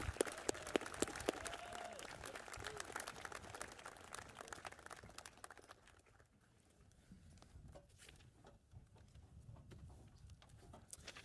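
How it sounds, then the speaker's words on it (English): Audience applause at the North Hunterdon High School Class of 2024 graduation ceremony, a crowd clapping loudly for the top students and then thinning to softer scattered claps, with a few bird calls in the background. "one more round of applause for our top 7 students."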